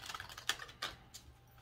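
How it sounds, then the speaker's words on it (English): A deck of oracle cards is shuffled in quick, soft riffling bursts with a couple of sharper snaps, close but quiet, with no speech. "I'm going to go ahead and shuffle for you guys three times."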